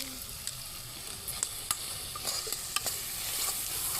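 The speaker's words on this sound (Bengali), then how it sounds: "মশলা দিয়ে দিলাম, ভালোভাবে মিক্স করে নেবো আমরা।" Vegetables and pasta masala are stirred in a hot pan: a soft background sizzle broken by sharp scraping and clacking strokes of a spoon at irregular intervals.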